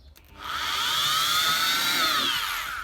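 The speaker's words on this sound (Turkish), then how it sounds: "Matkapla çok daha rahat olabiliyor." A power drill spins up and whines steadily at high speed, close and loud, for a couple of seconds, while fitting a front lip onto a Honda Civic FD6.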